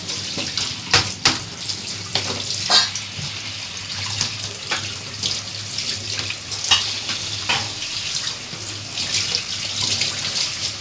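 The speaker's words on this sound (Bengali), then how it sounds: "অল্প করে জল অ্যাড করলাম আমি যাতে মশলাটা পুড়ে না যায়" Water splashed into ginger-garlic paste frying in a pan for bhetki fish head and bone chorchori, giving a close, steady wet sizzle with scattered sharp crackles and spits, no voices.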